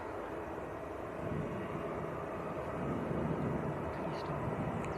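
A passenger airliner arriving at Manchester Airport from Faro, heard as a steady broad engine roar that swells slightly midway and stays constant throughout, with some chatter in the background.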